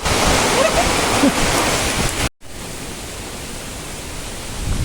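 Loud broadband wind rush for about two seconds, a brief cutout, then a softer steady blowing that carries on.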